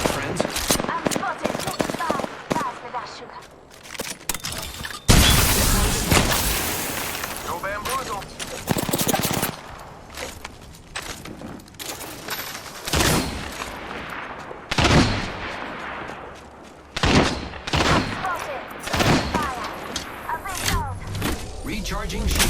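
Gunfire in the battle royale game Apex Legends crackles in scattered bursts and single shots, some near and loud, others more distant, with game voice lines speaking throughout.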